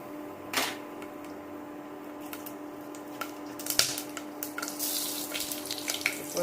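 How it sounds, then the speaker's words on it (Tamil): Whole spices such as cinnamon bark, cardamom, cloves, star anise and stone flower hit hot oil in a pan, giving faint sizzling with scattered sharp crackles and pops that grow busier toward the end. "சட்டியில் எண்ணெய் காஞ்செடுத்து இப்போ இதில் ஒரு சின்ன பட்டை, 2 ஏலக்காய், மராத்தி மொக்கு 2, ஸ்டார் 1, கல்பாசி கொஞ்சம்"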